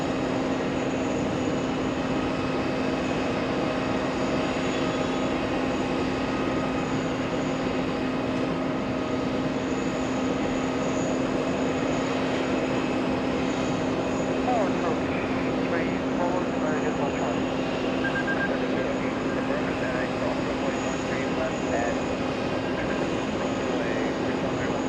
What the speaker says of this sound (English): JetBlue landing in the distance, flying in from Orlando, Florida.